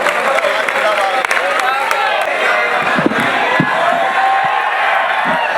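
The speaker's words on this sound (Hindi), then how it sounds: "मैं चाहता हूँ डॉक्टर मोइन शादाब साहब को जोरदार तालियों में इस्तकबाल कीजिए" Loud applause and cheering from a mushaira audience welcoming a poet, a dense roar of clapping with whoops and shouts, while a voice talks over it.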